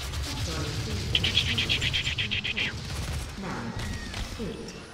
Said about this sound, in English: Micro rockets activated.